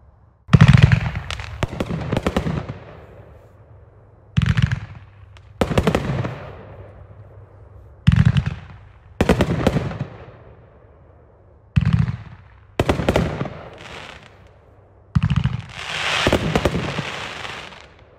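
A Neon Shake firework cake fires in a series of loud bursts, each a sharp launch boom followed by crackling and fizzing. The shots come in clusters with short pauses between them, and a long sizzling crackle closes the sequence.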